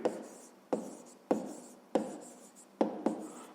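Pen writing by hand on paper for a maths exercise, a soft scratchy rubbing broken into about six short strokes, each starting with a sharp tap and fading. Close and quiet, with no talking.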